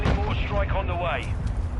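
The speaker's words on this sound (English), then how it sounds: "Friendly mortar strike on the way." Mortar strike explosions in Modern Warfare 2, heavy booming blasts rolling in close and loud beneath a voice talking over them.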